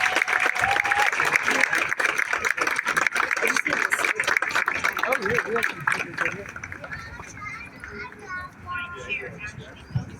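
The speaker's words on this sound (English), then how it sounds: "let's give Jan a big round of applause" An audience at a retirement event for a TriMet MAX light-rail car applauds in a loud, full burst that thins out after several seconds, giving way to a voice speaking over the room.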